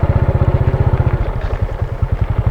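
Semi-automatic Honda XRM 125 motorcycle engine idling close by, a steady rapid thumping pulse with a faint metallic clatter, with no talk over it.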